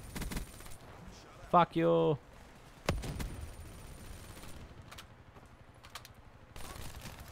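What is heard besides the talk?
shotgun fire in a video game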